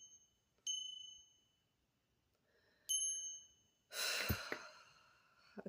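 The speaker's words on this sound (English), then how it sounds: "that bell really helped" A small bell rings clearly, with a sharp, ringing strike near the start and a second strike a couple of seconds later, each decaying slowly in a quiet room, followed by a burst of breathy rustling noise.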